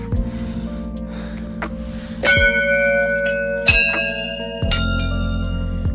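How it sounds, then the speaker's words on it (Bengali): A temple bell rung by hand on the Tungnath temple trek in Uttarakhand, three or four loud clanging strikes, each leaving a long shimmering ring that decays before the next blow. "এখানে একটু আগে ঘন্টা বাজিয়ে নিই।"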